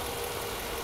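A Mercedes W126 380SEC idles after an engine repair, a steady close rumble running without a break and with no talk over it.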